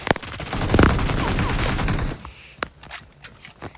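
Kar 98 bolt-action rifle fire in an online shooter game, with sharp loud gunshots and a dense burst of combat noise, then a few scattered distant shots.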